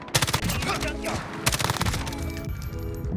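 Rapid gunfire from an M13 rifle in Call of Duty: Modern Warfare multiplayer, loud repeated bursts of shots with game sounds throughout and no talk.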